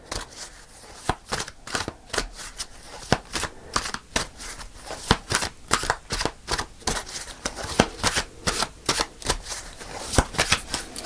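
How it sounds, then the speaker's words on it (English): A tarot deck is shuffled and cards are pulled, producing rapid riffling flutters and crisp slaps in quick irregular bursts, close and fairly loud with no speech. "Going to pull one more card, Aries."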